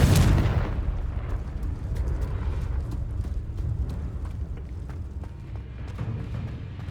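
A Confringo blasting spell explodes in Hogwarts Legacy with a loud, sudden boom up front, then a long rumbling decay with scattered debris crackles.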